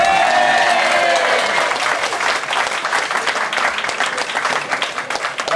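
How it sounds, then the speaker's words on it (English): A room full of people at an evening event applauds loudly, dense clapping sustained throughout as a fading voice or tone trails off at the start. "He deserves a bigger round of applause than that."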